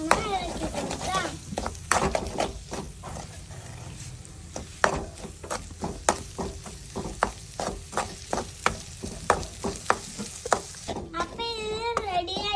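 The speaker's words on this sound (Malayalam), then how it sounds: "രണ്ട് മുട്ട പൊട്ടിച്ച് ഒഴിച്ച് കൊടുക്കാം. അതിനുശേഷം നമുക്ക് നന്നായി ഇളക്കി കൊടുക്കാം." Beaten eggs, two cracked into a hot frying pan, are stirred with a utensil, giving sharp repeated scrapes and taps over a soft sizzle, with a voice talking at times.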